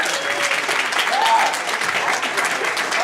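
At a comedy club opening night, the crowd applauds a comedian leaving the stage, a thick continuous clapping with cheers and shouts mixed in.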